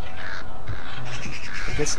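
Crows cawing as startled birds take off in the stealth video game Thief, a couple of harsh caws over a dim game ambience while someone talks briefly.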